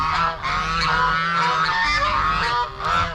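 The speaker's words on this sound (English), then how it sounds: "Those geese are loud." A flock of geese honks loudly and continuously close by, overlapping calls in a noisy chorus.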